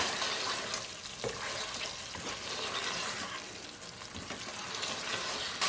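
Mutton ghee roast frying in a pan with ghee while being stirred and mixed, a steady dense sizzle with scraping of the spoon, close and fairly loud throughout with no talking.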